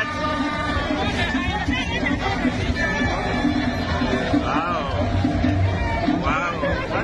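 A large outdoor crowd of rally supporters in Taraba State, a steady dense babble of many voices with some cheering, while a person talks nearby.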